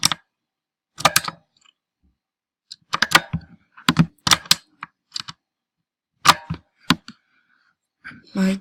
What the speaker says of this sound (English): My keyboard is loud, so sorry about that.